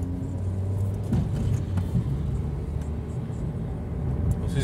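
Inside a 2012 Suzuki SX-4 on the move, a steady low engine and road rumble swells gently as the car gathers speed, fairly quiet with no talking.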